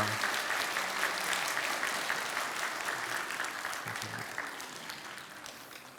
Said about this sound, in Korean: 우리 박수로 축복해 주시기 바랍니다